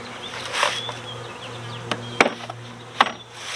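A honeybee colony hums steadily and close by during a hive inspection of a colony with a failing queen, the drone continuous under a few sharp taps and knocks of frames or hive parts.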